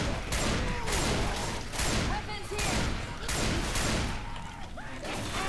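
Rapid bursts of gunfire ring out in the zombie shooter Left 4 Dead 2, loud, dense volleys repeating roughly every second alongside game effects.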